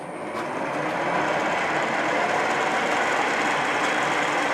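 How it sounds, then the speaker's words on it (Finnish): A small drill runs steadily through a hole in metal in a workshop, a continuous even whine and rumble at constant loudness with no speech over it. "Toi on pieni pora."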